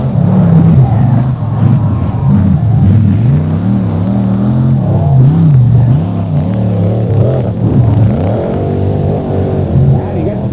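A 1979 Chevy S10 truck at a four-wheel jamboree in Bloomsburg revs hard with a loud, wavering engine roar that rises and falls repeatedly. An announcer talks over it throughout.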